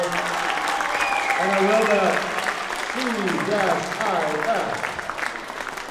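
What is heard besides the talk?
audience applause for 7th graders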